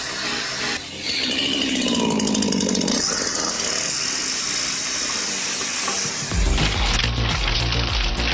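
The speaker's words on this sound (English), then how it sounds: "Watch a master operator command a roaring chainsaw" A chainsaw roars steadily and loudly through the clip, run by a skilled operator cutting massive wood in an industrial wood processing setting, with a heavier rumbling burst near the end.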